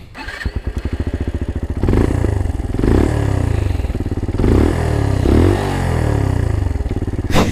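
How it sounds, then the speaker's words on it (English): A small CFMOTO Papio pocket motorcycle engine starts with a rattling crank, then idles loudly and revs up and down several times, close by. "I have to say the exhaust note is unnecessarily loud"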